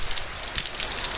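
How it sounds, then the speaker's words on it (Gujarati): Rain falls in Junagadh during the monsoon, a dense and steady hiss of drops spattering on surfaces, brief and fairly close, with no voices. "વરસાદ આવ્યો"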